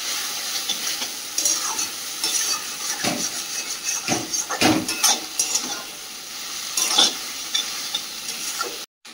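Boiled taro stolons being stirred and fried in a pan, with a continuous sizzle broken by scraping strokes of the spoon against the pan, close and moderately loud, and no speech.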